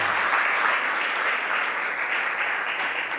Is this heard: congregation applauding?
yes